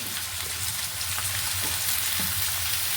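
Carrot, sweet potato and cauliflower frying together in a pan, a loud, even, continuous sizzle close up with faint stirring, no voices.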